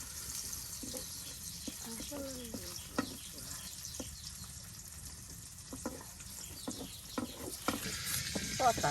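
Oil sizzling steadily in a pan over a clay stove in a village kitchen as fish curry cooks, with occasional clinks and stirring scrapes, close and continuous, and a voice talking intermittently over it.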